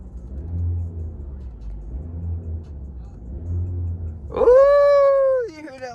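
A tuned car engine pulses with a lumpy, rhythmic low rumble that swells in repeated revs, then a voice lets out a long, high exclamation over it.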